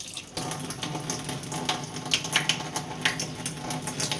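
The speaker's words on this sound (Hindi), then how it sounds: "इस तरह का ईंट लेते हैं, उसको बढ़िया से धो लेते हैं।" Water runs and splashes steadily over a brick being washed clean for a Sheetala Saptami puja offering, a close, continuous tap-like pour with small irregular splashes and no talking.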